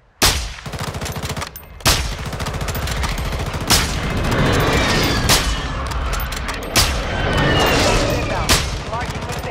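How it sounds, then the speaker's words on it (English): Loud airstrike explosions and heavy gunfire in a shooter video game, with sharp booming blasts repeating every couple of seconds over dense, continuous battle noise while players talk. "Friendly airstrike in the AO."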